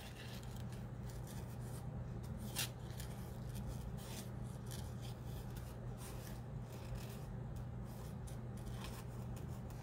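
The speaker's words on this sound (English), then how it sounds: "So now I'm going to cut this vase out where that flower was." Scissors snip and rasp through paper at close range while a vase shape is cut out for an art journal, with quiet rustling between the cuts.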